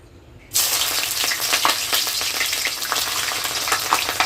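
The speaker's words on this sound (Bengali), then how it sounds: "তেল গরম হয়ে গেছে। এবার দিয়ে দেবো আদা কুচি আর লঙ্কা কুচি" Chopped ginger and green chili hit hot oil mixed with ghee and burst into a loud, steady sizzle that carries on alone, with crackling spatter throughout.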